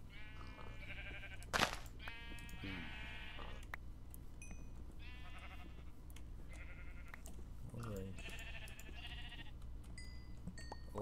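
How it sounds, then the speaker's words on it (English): Sheep in modded Minecraft give repeated short digital bleats, several in a row at a moderate level, with a sharp click partway through and a steady background hum. "More sheep."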